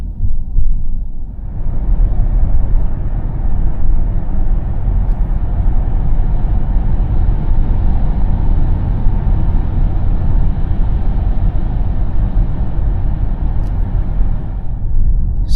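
VW electric car driving at a near-empty battery, heard from inside as a steady low road rumble and tyre noise that holds evenly throughout.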